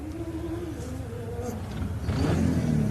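A Suzuki Hayabusa-powered racing machine with an exhaust problem buzzes at a distance during the Loveday 400, making a rough, reedy drone. The engine note swells and grows louder near the end, as if accelerating.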